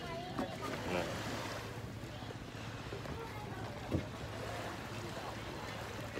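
Steady engine hum and wind noise from a boat bound for Pulau Untung Jawa, with water sounds and passengers talking throughout.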